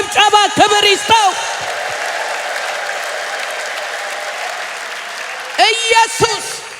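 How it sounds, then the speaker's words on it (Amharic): A church congregation claps and ululates, with high trilling voices at the start and again near the end over steady, dense applause filling the whole stretch. "እልልታ፣ ጭብጨባ፣ ክብር ይስጠው።"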